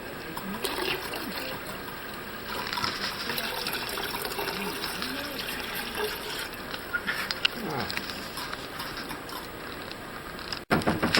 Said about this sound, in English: go ahead and pour that pitcher in there